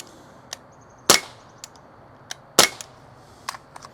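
Two loud, sharp gunshots about a second and a half apart, with a few fainter clicks and pops scattered between them outdoors.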